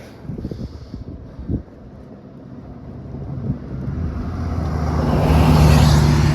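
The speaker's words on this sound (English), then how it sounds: "The truck coming." A truck approaching on a country road in the countryside, a low rumbling engine and tire noise that builds steadily louder and broadens over several seconds as it draws near, with wind buffeting the microphone.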